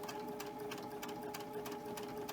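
A sewing machine runs steadily at a short stitch length, sewing tiny stitches off the end of pillowcase fabric with a continuous close whirring hum and rapid needle ticking.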